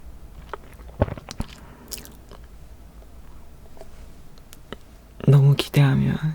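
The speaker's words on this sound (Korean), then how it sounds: "일단 통삼겹부터 먹어보도록 하겠습니다" Soft, sparse biting and chewing of canned pork belly, recorded close for ASMR, with scattered small clicks and squishes before a voice speaks at the end.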